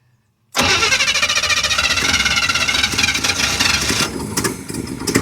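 A 1967 Chevy C20 pickup engine, restarted after sitting 12 years, cranks and catches abruptly after a moment of silence, then settles into a loud, rough, steady idle close by.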